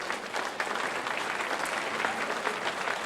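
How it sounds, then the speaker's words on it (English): A hall of fame audience at a softball induction ceremony applauds steadily, a dense, even wash of many hands clapping from start to finish with no talking over it. "And give them a round of applause as well."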